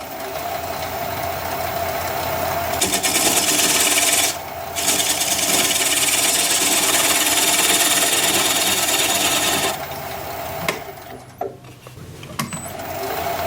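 A lathe tool trims chuck jaw marks from spinning sycamore wood, giving a loud continuous rasping, scraping whir close up, with a brief break partway and lighter, broken cuts near the end.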